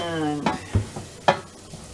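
Garlic sizzles in a hot pan, with a soft steady hiss and a few distinct stirring scrapes and clacks close by.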